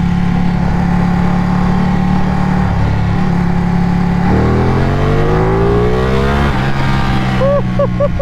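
A Ducati motorcycle engine revs hard and accelerates through the gears, its pitch climbing, dropping at each shift, then climbing again, loud and close over steady wind rush.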